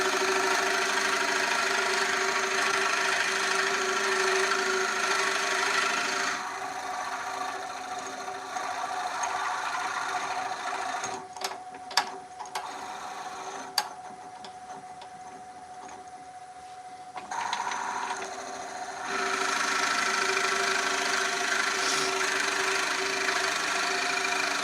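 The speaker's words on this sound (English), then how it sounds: "Introduce the Forstner bit nice and easy." Woodworking shop drilling with a Forstner bit, a steady loud motor whine with dense broadband cutting noise that eases to a quieter stretch with a few sharp clicks mid-clip, then returns at full strength.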